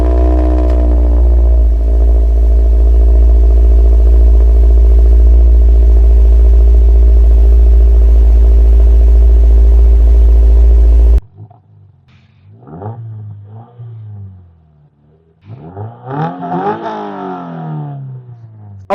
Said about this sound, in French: On a un échappement changé avec l'intermédiaire et le silencieux qui sont changés et vous allez voir le bruit, il est vraiment beau.